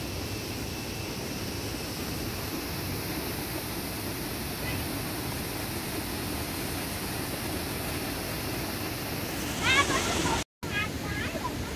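Dambri waterfall at Bao Loc roaring steadily as a broad, continuous rush of water, loud and unbroken throughout, with voices faintly audible near the end.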